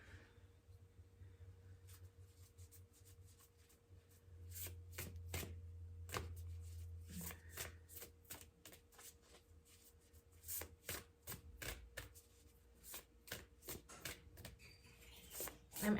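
A deck of tarot cards being shuffled close up, quiet riffling and sharp flicking clicks in uneven bursts over a low hum, with brief soft speech in places.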